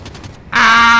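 A machine gun nest opens up in the war shooter Call of Duty: Modern Warfare, a loud sustained burst of gunfire that bursts in halfway through and holds steady, preceded by faint rumbling.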